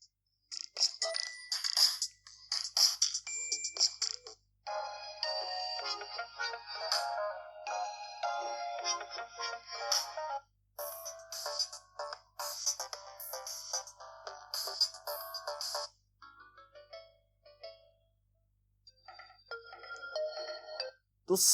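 Several different ringtones play in turn from a Samsung Galaxy M11 speaker, bright chiming melodies separated by short pauses, fairly quiet.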